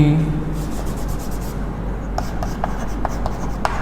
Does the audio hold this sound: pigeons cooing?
no